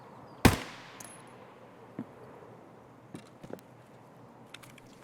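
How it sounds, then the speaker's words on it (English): Shotgun blast in Escape From Tarkov: one loud, sharp report with a short decaying tail, followed by a few faint distant thuds and clicks in an otherwise quiet raid. "This is a very good shotgun."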